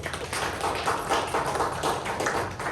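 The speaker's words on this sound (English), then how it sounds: "So give them a round of applause because they're just amazing." An audience at a small community business presentation gives a short burst of steady clapping, dense and fairly close, with no voices over it.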